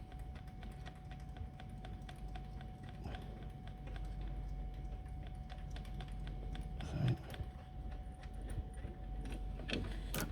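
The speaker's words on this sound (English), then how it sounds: "I just use a ratchet with a 16mm short socket on there" A ratchet with a 16mm short socket undoing an alternator bolt on a 2003 Peugeot 206 GTi 140, clicking in quick, steady, close-up strokes with faint creaks and no talking.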